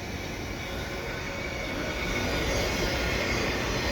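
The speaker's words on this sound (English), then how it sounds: "GE locomotive. Another ET44AH." A GE ET44AH locomotive hauling a freight train rolls past close by in winter, giving a steady, loud broadband rumble and rail roar that builds slightly and holds through the passage, with no voices.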